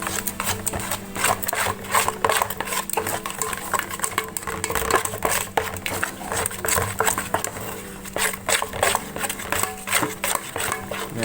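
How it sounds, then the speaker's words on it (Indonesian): Egg is stirred into a mushroom meatball mixture in a bowl, with continuous close scraping, patting and squelching strokes in an irregular rhythm. "Ini kita aduk-aduk sampai campur semua."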